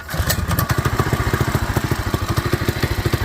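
Predator 212 engine fitted to a John Deere 110 tractor running warm with the choke off, a steady, loud, close chugging putter with a fast even pulse throughout.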